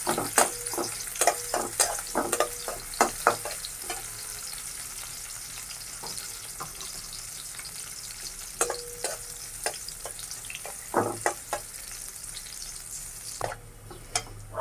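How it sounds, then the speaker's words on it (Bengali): Onions browning in hot oil in a kadai for a mixed-vegetable labra, with a steady sizzle broken by irregular scraping stirs and clinks, moderately close with no voices. "এখানে দিব আমি তেল তারপর আমি দিয়ে দিব একটু পেঁয়াজ পেঁয়াজটা আমি এইভাবে লাল করবো"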